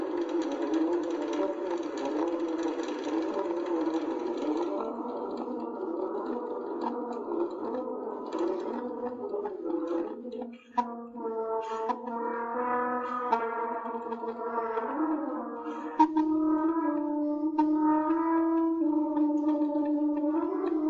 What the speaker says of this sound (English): Here is what a tuba sounds like.